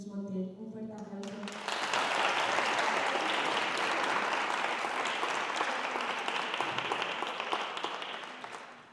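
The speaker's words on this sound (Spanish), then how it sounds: "Un fuerte aplauso." An audience at a literary reading in Fuenllana breaks into sustained applause right after a woman finishes introducing the guest, the clapping swelling and holding steady for several seconds before slowly tapering.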